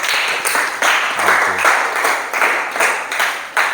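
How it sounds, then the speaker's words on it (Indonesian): Classroom applause for a fellow participant during a workplace safety lesson: a dense, steady patter of many hands clapping together, sustained at an even level for several seconds. "berikan tepuk tangan dulu buat teman kita"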